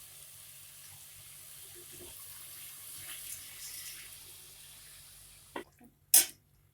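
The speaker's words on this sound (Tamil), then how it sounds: "இப்போ இதுல நம்ம தேவையான அளவு தண்ணி விட்டுக்கலாம்." Water runs steadily into rice in a pot for cauliflower, brinjal and potato pulao, a soft continuous pour that ends with a couple of sharp knocks.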